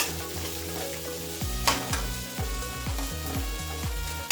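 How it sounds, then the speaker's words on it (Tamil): Carrot, beans, cabbage and green chilli fry on low heat in a pan for gobi rice, a constant soft sizzle with a run of evenly spaced stirring scrapes and a tonal hum underneath. "கேரட், பீன்ஸு, இந்த கோஸு ப்ளஸ் பச்சை மிளகா இது எல்லாத்தையுமே இதில் ஆட் பண்ணி சிம்மில் வச்சு நல்லா ஒரு 2 செகண்ட் அப்படியே ஃப்ரை பண்ணணும்."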